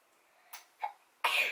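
A person sneezes, with a small intake and a short burst followed by a louder, sharp sneeze at the end, close and alone over a quiet background.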